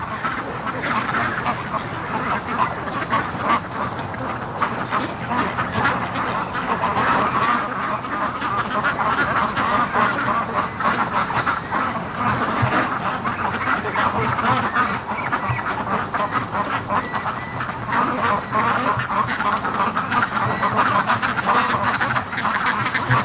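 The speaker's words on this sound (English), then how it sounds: "there's some more Muscovies" A flock of Muscovy ducks in a swamp-side duck yard quacks and honks steadily throughout, a dense, continuous chorus of overlapping calls at close to moderate distance with no talking.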